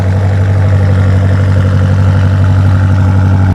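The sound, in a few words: BMW M8 engine idling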